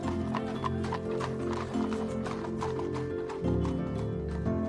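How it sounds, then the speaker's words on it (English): Horses' hooves clip-clop on cobblestones outside a Georgian terrace, a quick, even run of hollow knocks, close and fairly loud, with a low rumble underneath and no talk. "the sound of horses' hooves would have echoed on the cobbles outside"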